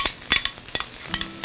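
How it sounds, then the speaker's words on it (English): Pre-cooked vegetables and rice sizzle in a hot pan while being stirred, with a soft steady hiss broken by scattered scraping taps of a utensil against the pan. "We have our pre-cooked vegetables here. We're going to put those right in there."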